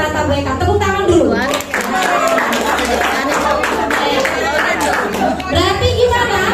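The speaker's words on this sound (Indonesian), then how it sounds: "Tepuk tangan dulu." An audience at a school teachers' sharing session claps hands in scattered, uneven bursts, mixed with chatter and a speaking voice throughout.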